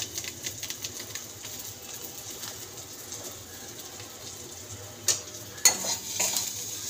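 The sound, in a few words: spices frying with green chili and chicken masala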